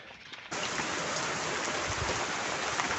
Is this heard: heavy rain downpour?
yes